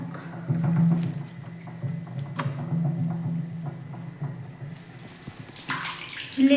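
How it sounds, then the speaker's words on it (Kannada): Dirty water runs out of a Hot Star washing machine during a laundry wash, a continuous close gushing flow with a low rumbling tone, swelling and easing slightly before a sharper splash at the end. "ನೋಡಿ ನೀರು ಆಚೆ ಬಿಡ್ತಾ ಇದ್ದೀನಿ ಗಲೀಜು ನೀರೆಲ್ಲ ಹೋಗ್ತಾ ಇದೆ"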